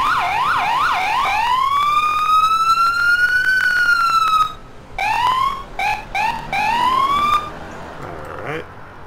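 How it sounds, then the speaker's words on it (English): Ambulance siren on an emergency vehicle in the EmergeNYC game, loud and close, cycling through a rising-falling wail, a long sweeping tone, then several short choppy yelps before fading. "We have our sirens."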